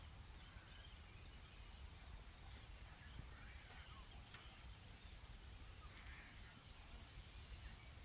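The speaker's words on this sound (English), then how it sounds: "Sounds of the bugs fly." Outdoor insects in a wetland chirp in short, repeated high bursts roughly every two seconds over a faint steady hiss, with no voices.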